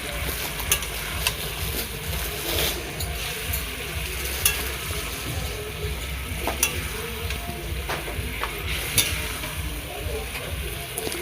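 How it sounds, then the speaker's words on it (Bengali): Garlic cloves frying with spices in a pan make a steady, loud sizzle, broken by repeated scraping clicks of a spoon stirring against the pan, with no one talking. "রসুনগুলো দিয়েও অনেকক্ষণ ভেজে নিতে হবে, মানে রসুনগুলোর সাথেও ভালো করে কষিয়ে নিতে হবে।"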